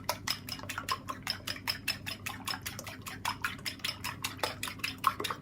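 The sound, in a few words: whisking eggs in a bowl for quiche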